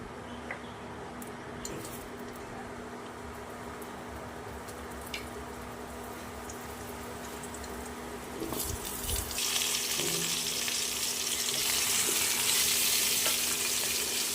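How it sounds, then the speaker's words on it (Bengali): Cut potatoes with whole cumin seeds frying in oil, a constant sizzle that suddenly swells into a loud, bright hissing roar partway through and stays strong. "আলুগুলো দুই থেকে তিন মিনিট ভেজে নিয়ে"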